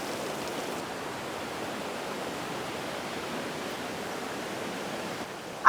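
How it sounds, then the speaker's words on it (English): A small stream runs down a trail at Lake Toba in Sumatra, a steady close rushing and splashing of water that fills the whole stretch without speech. "This is a stream coming down."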